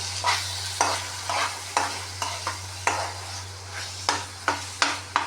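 Thick chickpea cholay gravy being stirred in a pan, a series of distinct scraping strokes at an uneven rhythm over a low steady hum, close and moderately loud with no talking.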